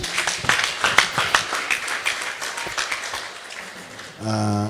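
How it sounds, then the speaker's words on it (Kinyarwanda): A church congregation claps and applauds in praise of Jesus during a service, a dense burst of hand claps over the first four seconds that thins toward the end before a short tonal sound. "Reka dukomere Yesu amashyi menshi."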